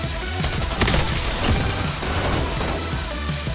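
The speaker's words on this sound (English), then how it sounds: "That's my decoy grenade." Fake gunfire from a decoy grenade in Call of Duty Warzone, a dense rattle of rapid shots and bursts running steadily throughout at fairly loud level.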